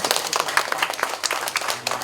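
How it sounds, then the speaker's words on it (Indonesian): A crowd claps in a steady, moderately loud burst of applause lasting the whole moment, with a faint voice underneath, at a community health post award assessment event in West Java, Indonesia. "mohon tepuk tangan"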